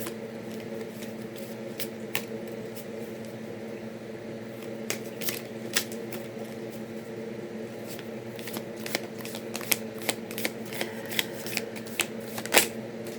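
Citadel oracle card deck by Fen Inkwright being shuffled by hand, close up, with soft riffles and a series of sharp card snaps growing busier toward the end over a steady hum from a running fan.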